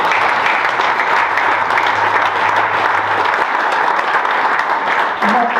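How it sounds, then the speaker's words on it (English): An audience at a bowlers' reunion dinner applauds a bowler, sustained dense clapping from a full room that carries steadily throughout, with a low voice briefly beneath it. "you need to be applauded"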